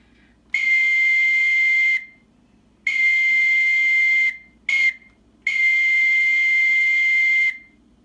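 A model train caboose whistle from a Tsunami2 sound decoder on a MoPac model railroad sounds in a clear, steady tone: two long blasts, a quick short toot, then one more long blast.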